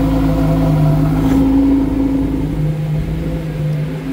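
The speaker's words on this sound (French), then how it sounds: "Ça fait quand même un beau bruit une Huracan" A Lamborghini Huracan engine idles loudly near a hotel in Cannes, a deep continuous rumble with a steady droning hum and slight shifts in pitch, close and sustained throughout.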